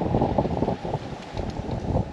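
Wind roars across the microphone aboard a sailboat at sea in a 13-knot breeze off the Île d'Yeu, a steady close rushing with no voices.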